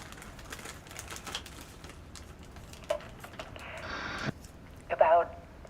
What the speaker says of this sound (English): Typewriter keys clacking.